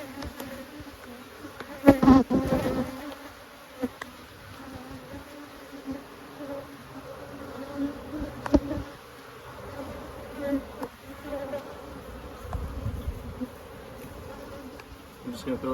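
Honeybees buzz steadily around queen cells and hive frames during a beehive split in a bee yard, a close, continuous drone with a few brief handling bumps.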